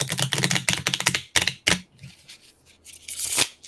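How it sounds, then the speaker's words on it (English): Playing cards are shuffled close up in a quiet room, a dense burst of rapid riffling clicks followed by a few shorter flutters and a final riffle, with no talk over it. "I'm gonna practice my card shuffling."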